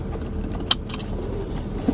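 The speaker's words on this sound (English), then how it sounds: "Let me dig my keys out." Car keys jangle inside a parked car as someone digs them out of a purse, with two brief metallic clinks over a low steady background rumble, close by and without talk.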